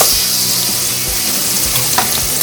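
Onion and tomato sautéing in a pan for vegetable pasta, a continuous loud sizzle with a few soft spoon stirs and clinks.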